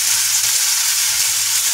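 Garam masala powder sizzles steadily in a hot pan of kofta gravy masala, a dense, even hiss that stays loud and unbroken from start to end with no talk.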